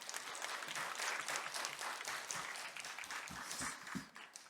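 A church congregation applauds as the senior pastor comes forward, a dense, steady wash of many hands clapping throughout, tapering slightly near the end.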